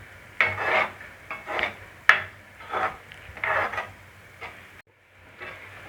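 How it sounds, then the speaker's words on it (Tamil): A spoon scraping and sliding through a pan as cashew paste is stirred into a ginger chicken curry, several distinct close strokes with short pauses between them, no voices. "இப்போ நம்ம முந்திரி பேஸ்ட்டை சேர்த்துப்போம். கிளறி விட்டுப்போம்."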